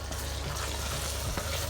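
Onions cooking in a pot for duck stew give a steady, close sizzle and crackle of frying that runs unbroken, with light stirring scrapes and no talking.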